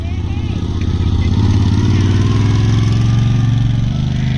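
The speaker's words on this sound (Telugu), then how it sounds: "ఇప్పుడు బైక్ వస్తుంది చూడండి" A motorbike engine drones close by on a street near Strand Beach in Novi Sad, Serbia, its loud steady rumble swelling as it passes, with a voice talking over it.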